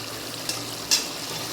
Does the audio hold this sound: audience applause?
no